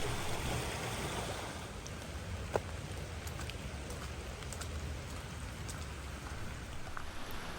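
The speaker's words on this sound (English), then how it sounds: "Rain came in overnight, and it's going to rain most of the day." Steady rain falling through the day after overnight rain beside a swollen creek, a dense, even hiss of drops with occasional faint taps, soft and continuous with no other sounds standing out.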